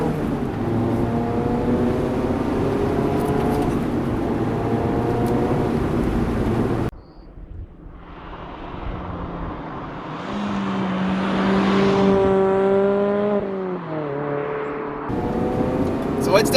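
A 2019 Mazda Miata Club drives on a road. Its engine hums close and steady, drops away sharply for a moment, then climbs again through rising and falling revs under quieter cabin noise.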